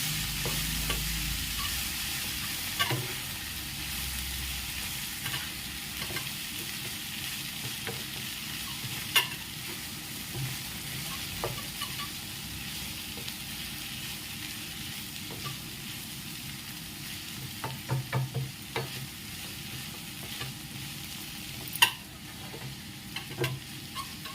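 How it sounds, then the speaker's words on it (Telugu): Bobbarakaya (cowpea) curry sizzles steadily in a pan while a spoon stirs it with frequent light scrapes and knocks, all close up with no talking. "వీటిని బాగా మిక్స్ చేసుకుందాం"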